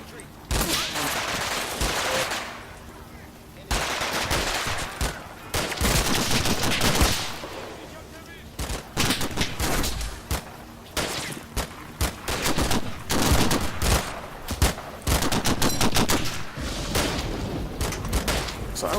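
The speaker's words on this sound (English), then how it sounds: "They also automatically came under fire from my line of troops here." In the World War II strategy game Combat Mission Final Blitzkrieg, a line of troops trades fire, heard as dense bursts of rifle and machine-gun shots with a few heavier booms.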